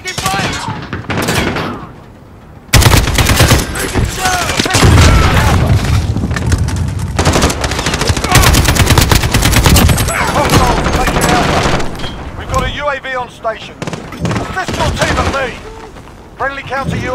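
Heavy gunfire in Call of Duty Modern Warfare on the Rust map, with an AK-47 firing rapid bursts alongside booms and explosions, loud and nearly continuous, with game radio voices breaking in near the end.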